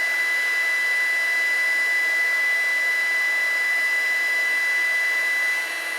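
A heat gun shrinks heat shrink solder tubing over two joined wires, giving a steady, loud blowing whine with airy hiss that runs unbroken and alone, dropping slightly right at the end.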